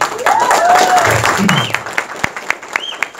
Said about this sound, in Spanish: Alessandro, que está por acá, quiero que le den unas fuertes palmas, por favor, Alessandro Riva